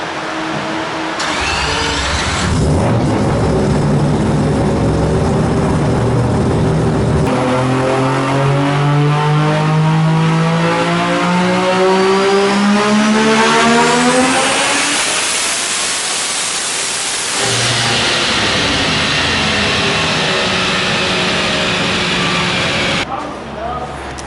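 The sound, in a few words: Mazda RX-7 FD 20B rotary race car engine revving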